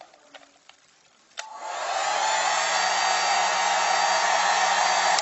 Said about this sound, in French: un sèche-cheveux